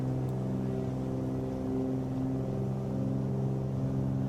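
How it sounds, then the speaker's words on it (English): Milviz Cessna 310R twin engines at full takeoff power in MSFS 2020, a steady, droning hum of engine tones held evenly throughout with no voices. "So for takeoff, we're just going to go full power forward,"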